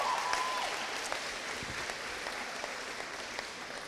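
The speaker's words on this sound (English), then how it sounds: "Give yourselves a round of applause for that." Sustained applause from an audience at a school awards ceremony, a broad even roar of clapping heard from a little distance, with no speech.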